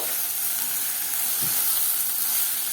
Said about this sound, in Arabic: وادي الرز بتاعي اتشوح تشويحه حلوه